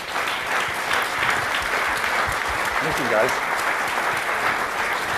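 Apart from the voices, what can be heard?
audience round of applause for changemakers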